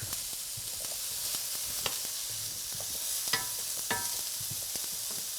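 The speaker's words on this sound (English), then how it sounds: "because the sweet potatoes take a while to cook, this has been cooking for about 5 minutes in the skillet" Sweet potatoes cooking in a skillet, a steady close sizzle broken by occasional sharp utensil taps and scrapes, with no one speaking.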